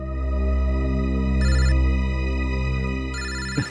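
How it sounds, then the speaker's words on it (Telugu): A telephone ringtone plays a sustained electronic melody of tonal notes, with two brighter bursts partway through. It is close and clear with no talking and ends abruptly at the finish. "ఎవరి గురించి మాట్లాడానో ఆయనే ఫోన్ చేశారు, సోలంగి సార్."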